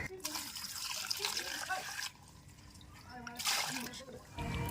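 Water pours and splashes over muddy river crabs from the Sundarbans as they are rinsed. The running water is continuous and close, stopping briefly in the middle, and a voice speaks over it.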